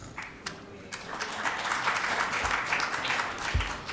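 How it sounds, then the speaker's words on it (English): A municipal council meeting audience breaks into a round of applause, a broad wash of clapping from many people that swells and holds steady, with a few low thumps underneath. "And that deserves a round of applause."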